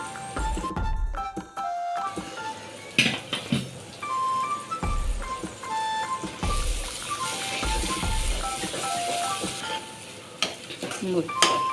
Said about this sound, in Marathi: चांगले तळून घ्यायचे हा घरगुती वाटण सुद्धा मी टाकते थोडा कांद्या खोबऱ्याचं वाटण ग्रेव्हीसाठी